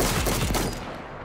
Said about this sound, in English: Iconic power shotgun.